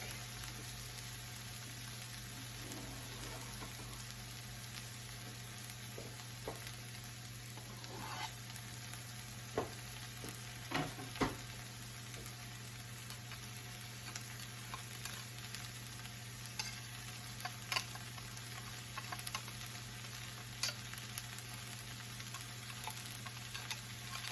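Garlic frying in a pan for vegetarian meatballs gives a faint, continuous sizzle with occasional sharp ticks and pops, over a steady low electrical hum, with no voices throughout.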